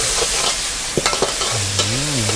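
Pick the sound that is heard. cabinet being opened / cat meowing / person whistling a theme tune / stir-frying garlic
stir-frying garlic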